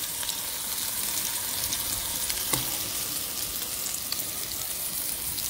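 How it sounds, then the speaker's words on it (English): Onions, cumin seeds and curry leaves fry in a pan outdoors in a garden, giving a steady, moderately loud sizzle with faint crackles and pops throughout and no voices. "You see the Geera, the curry leaves, the onions all frying up."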